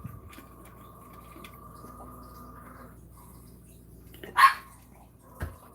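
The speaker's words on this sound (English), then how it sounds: "You hear Annie in the background barking." A single short dog bark sounds once, at a distance, over a faint steady hum, followed by a soft thump.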